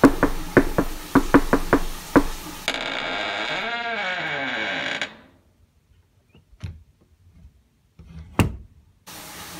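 Sharp knocking on a door inside a dark house: a quick, loud series of raps, followed by a burst of noise and then a few isolated thuds in near silence.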